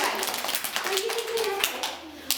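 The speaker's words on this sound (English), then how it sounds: "give him a little clap. Little clap" A group of young children in a classroom playroom give a short, light round of clapping, soft scattered claps mixed with faint child chatter.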